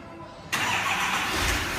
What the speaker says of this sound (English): Safely starts the truck